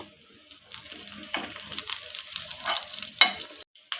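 Ghee sizzles in a pan as bread roasts, with a soft crackling fry and occasional scraping stirs up close, rising after a quiet start and cutting off briefly near the end.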